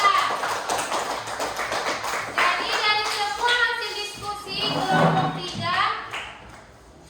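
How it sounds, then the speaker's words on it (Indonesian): Classroom applause for a student group: scattered hand claps and taps from pupils, close and fairly steady, mixed with a teacher talking over them. "Oke, tepuk tangan untuk kelompok 3"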